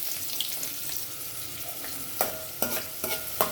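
Cumin seeds and onion fry in hot oil for a tempering, a soft steady sizzle with several louder stirring scrapes toward the end, heard up close.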